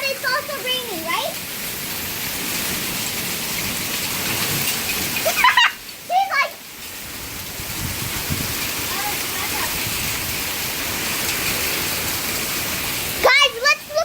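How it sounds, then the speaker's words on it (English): Steady, hissing icy rain falls outside a house during a cold storm, a constant wash of noise through the clip with people talking over it. "It's raining right now."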